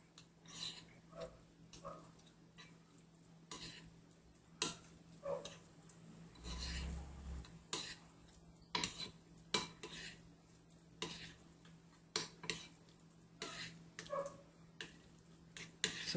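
A spoon stirring red food colouring into a small bowl of cheese paste, soft quiet scrapes and clicks against the dish in an irregular rhythm.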